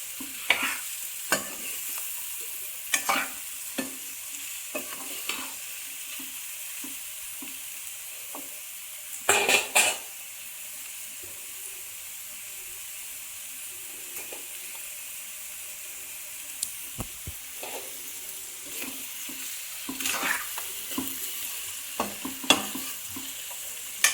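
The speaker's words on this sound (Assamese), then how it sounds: "এইটো মই আৰু 5 মিনিট ভাজিম।" Chicken frying over low heat in a pan gives a soft, constant sizzle, broken by repeated scraping and clattering stir strokes, with louder bursts now and then. No one speaks.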